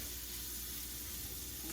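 Onions fry in oil and a little butter, a steady, soft sizzle and hiss held at an even level throughout.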